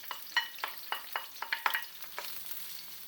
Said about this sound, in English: now keep frying the onions for 5 minutes till they're nice and translucent